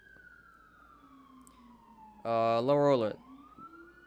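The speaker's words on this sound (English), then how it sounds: "Siren's coming." A distant emergency siren wails faintly outside, a thin drawn-out tone that keeps sounding while a person briefly speaks over it.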